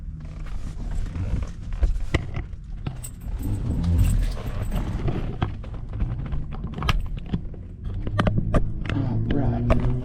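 A 1966 Pontiac GTO rumbles on a test drive, its V8 engine surging and settling with uneven throttle bursts, clicks and knocks from the cabin, and a voice speaking over it now and then.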